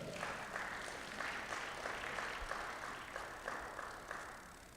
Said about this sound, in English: A round of applause for Dayo.